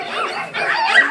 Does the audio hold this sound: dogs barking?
yes